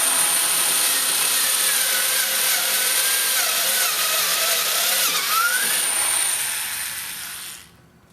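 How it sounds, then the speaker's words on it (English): A power drill whines steadily at close range for several seconds, drilling into the end of a wooden board, its pitch dipping and rising as it bites in, then winding down and stopping. "drill a hole in the end of the board."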